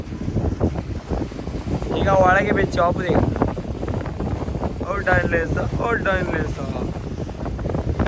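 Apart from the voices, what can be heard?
strong wind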